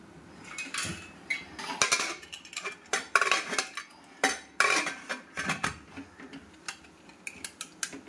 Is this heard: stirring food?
yes